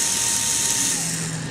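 A close electric screwdriver whirs steadily, loud and continuous, while undoing T6 Torx screws on a mobile phone.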